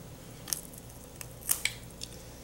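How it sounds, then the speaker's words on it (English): Scissors snip through tissue while a perch is dissected, giving a few brief, faint, close clicks spread over a steady low background hum. "Periodically, you might have to get in there with a pair of scissors and do a little bit of additional cutting"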